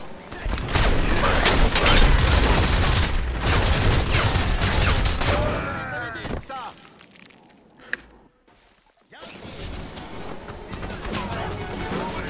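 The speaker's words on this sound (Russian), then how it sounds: "Я вообще не вижу, куда стреляют" Gunfire in the video game Crysis Remastered: loud rapid bursts and booming impacts fill the first half, then fade to quiet with a single sharp shot before the noisy action resumes.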